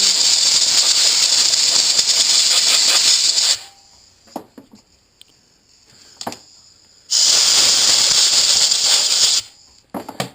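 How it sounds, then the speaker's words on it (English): Aerosol cleaner sprays onto a car's power steering pump in two loud, close bursts of about three seconds each, with quiet handling noises between them. "we're just going to give that a quick shot with some brake cleaner."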